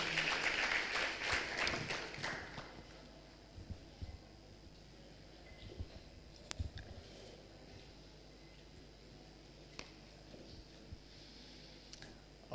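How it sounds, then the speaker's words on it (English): Audience applause for Richard Craig at a funding launch event in Tanzania, a short burst of clapping at the start that quickly dies away, leaving a quiet room with occasional faint knocks and rustles. "A hand of applause to Mr. Richard Craig."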